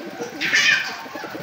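Pigeons on a pigeon farm during heavy rain give a short burst of cooing and calls, fairly close and clear over a steady wash of rain noise.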